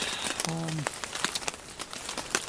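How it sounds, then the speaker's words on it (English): Rain falls on a hammock in light, irregular taps and patters close by, with a brief low voice-like hum early on. "Just laying here in the hammock in the rain"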